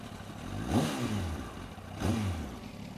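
A Yamaha R1 sport motorcycle gives two short throttle blips about a second apart, each rising and then falling back, over a constant rumbling idle, heard from close by.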